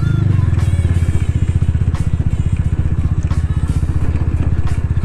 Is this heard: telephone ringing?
no